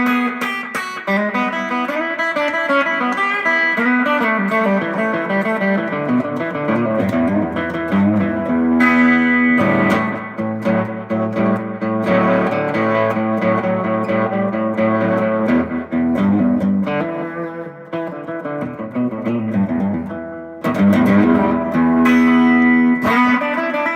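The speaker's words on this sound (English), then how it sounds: "The only effects I have on right now is a short analog delay with the onboard reverb of the amplifier" Electric guitar playing sustained chords and melodic lines, washed with a short analog delay and the amplifier's onboard spacious reverb, loud and continuous.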